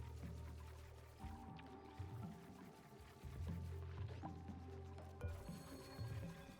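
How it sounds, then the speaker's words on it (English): Water is poured in Oxygen Not Included, with liquid gurgles and drips layered over a steady hum of game music and ambience. "I could actually just pour the water down here."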